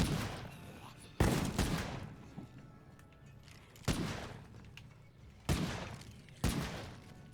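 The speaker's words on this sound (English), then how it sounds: "Chester took that as his cue to start firing." Video-game gunfire from Chester's golden gun, five loud separate bursts spaced a second or more apart, each decaying into a quieter rumbling background with faint talk between.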